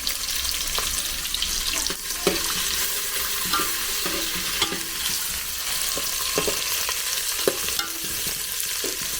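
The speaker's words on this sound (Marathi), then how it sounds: "आता कांदा परतायचा ना थोडा वेळ" Onions being sautéed in a pan for mutton curry cooked over a wood-fired stove, a constant hissing sizzle with intermittent spatula scrapes and knocks, close and fairly loud, without speech.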